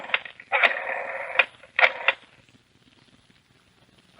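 Telephone handset clatters as it is picked up, followed by rotary-style dialing whirs and clicks in an old 1970s radio drama, close and clear, then quiet.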